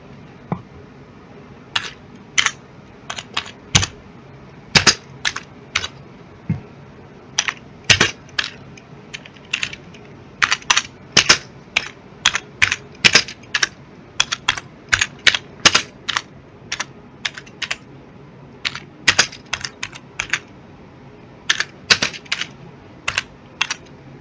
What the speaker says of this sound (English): so we'll do some keyboard sounds now.